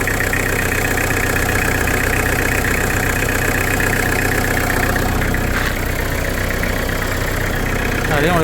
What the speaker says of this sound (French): j'ai le camion qui est en train de chauffer doucement